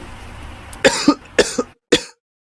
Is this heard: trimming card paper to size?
no